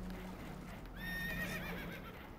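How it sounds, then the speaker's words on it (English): Spooked horses whinny sharply in Red Dead Redemption 2, one loud neigh rising over low rumbling background noise, with faint hoof sounds. "Horses are spooked, and we're taking on water."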